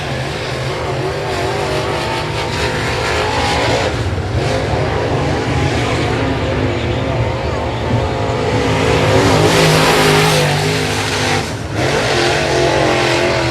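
A race car on a qualifying lap at Sabine Speedway roars at sustained high revs, a loud continuous engine drone that swells and fades as it passes, with crowd and track noise beneath.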